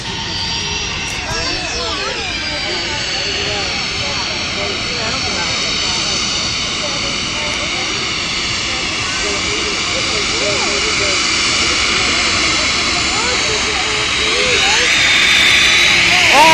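An aeroplane takes off at Manchester airport, its jet engines roaring loud and steady throughout and building toward the end, with voices speaking nearby under the noise.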